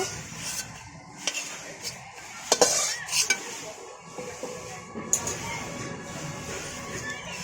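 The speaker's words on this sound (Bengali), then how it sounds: "আমার মরিচ ভাজা হয়ে গেছে, তুলে নিব।" Green chilies fry in a pan, a low sizzle under repeated scraping and clinking of a utensil against the pan, with a few sharp clatters near the start and one near the end.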